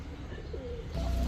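A deep red Giribaz high-flyer pigeon's soft, low coo rolls out close by, followed by a brief rustle or thump.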